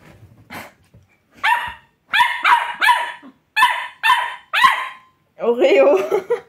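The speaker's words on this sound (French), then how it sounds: "Vous avez vu son petit aboiement aigu?" Oreo, a small dog, lets out a rapid series of sharp, high-pitched barks close by, about six quick yaps in short bursts with brief silences between them, ending in a longer whiny yelp.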